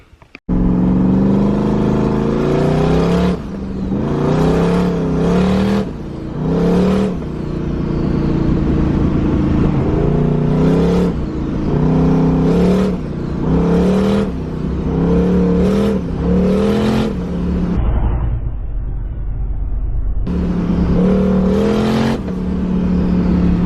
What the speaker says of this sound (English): Just got back from driving the twin turbo RX-7, and damn, this thing is really responsive.